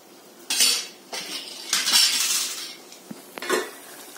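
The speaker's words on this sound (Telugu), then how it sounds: "మన సరిపడా మూత పెట్టేస్తున్నాను." A lid is set on a cooking pot, giving a few sharp metallic clanks and scrapes spaced over a few seconds, close and fairly loud against a quiet kitchen.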